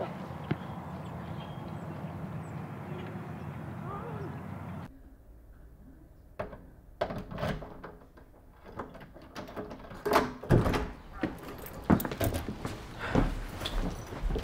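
A door opens during a short drama scene, with a burst of mechanical clicks, latch rattles and knocks after a sudden drop in background noise, scattered thuds and creaks continuing nearby.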